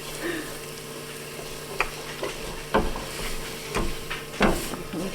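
Flour being stirred into a hot soup pot for a broccoli, ham and potato soup, giving scraping, stirring clatters and soft sizzling in a few distinct bursts over a steady low hiss.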